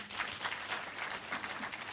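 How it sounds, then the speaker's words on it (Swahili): An audience at a political gathering gives a dense, steady round of applause for the people of Kalau, many hands clapping together at close range. "Pigieni makofi watu wa Kalau"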